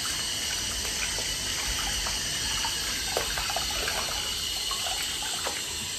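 Water runs steadily from a tap, splashing and gushing as a hairpiece is soaked under it, a continuous close stream with small spatters and no voices.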